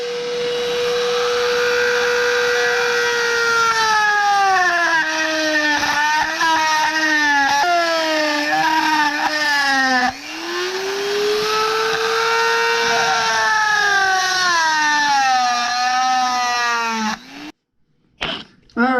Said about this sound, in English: So I got this little diamond bit, and I'm just going to make him go a little bit more this way